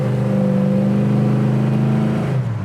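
A 1972 Chevelle Malibu V8 pulls hard under steady acceleration, a loud, close, continuous engine drone from inside the car that eases off at the end.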